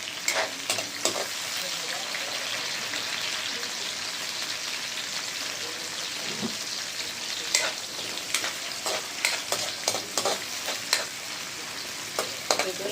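Onion, tomato and garlic sautéing in a pan for a kundol vegetable dish, giving a continuous dense sizzle like light rain with sharp spatula scrapes and stirs clustered toward the end, close by, with no talking.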